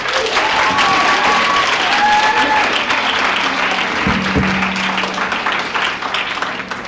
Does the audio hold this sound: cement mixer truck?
no